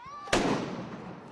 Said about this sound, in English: There were scuffles when firecrackers and flares from these demonstrators caused riot police to react.